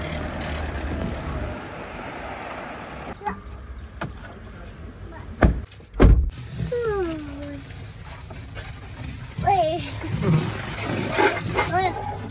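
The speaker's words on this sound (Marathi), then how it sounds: "आता आपली थार या रॅम्पवर चढवणार आहे" A Mahindra Thar is driven up onto a car-wash ramp: a low, steady engine rumble with two loud thumps midway, then squeaky, chirping tones, with voices in the background.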